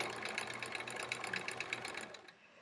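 Sewing machine stitching at speed during free-motion quilting, a close, steady rapid needle rattle that runs continuously and then stops near the end.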